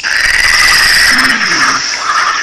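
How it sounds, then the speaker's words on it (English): A frog croaks in a loud, continuous, buzzing trill over a nursery-rhyme phonics song, with a brief voice-like sound partway through. "F for frog"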